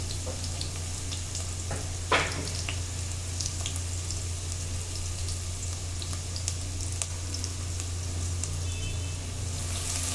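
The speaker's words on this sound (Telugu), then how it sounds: "ఉల్లిపాయ కలర్ చేంజ్ అయ్యే వరకు కూడా వేయించుకోండి" Chopped onion frying with green chilies and curry leaves in hot oil, a steady continuous sizzle with a few sharper crackles near the start, no one speaking.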